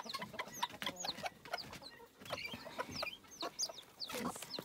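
Hens and chicks cluck and cheep close by in a farmyard, with busy overlapping calls, sharp chirps and scratching in the dirt, fairly quiet overall.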